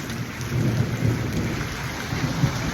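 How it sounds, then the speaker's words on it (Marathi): Heavy rain pours steadily while deep rumbling thunder rolls underneath, a dense, continuous roar with no voices. "खूप मोठा पाऊस आलाय"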